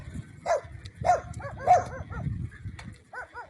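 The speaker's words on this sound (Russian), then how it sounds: "Смотрите, вот одни собаки бегают." Several dogs bark in a burned-out village, sharp repeated barks at fairly close range over a low rumble of vehicle noise, with a few softer yips between them.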